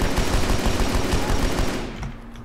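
Heavy automatic fire from a big gun in the military shooter Arma 3, a dense, loud rattling burst of rapid shots that continues steadily for about two seconds, then cuts off into a fading tail.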